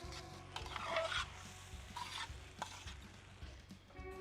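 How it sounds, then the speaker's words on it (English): Pork char siu stir fry with pork tenderloin gets a vigorous stir in a hot pan, a few scraping sweeps of the utensil over a steady sizzle, close and fairly quiet. "We are gonna give this a big, hefty stir and bring all of our elements and all of our textures together."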